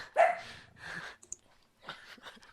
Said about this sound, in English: the dog's bark means he loves it.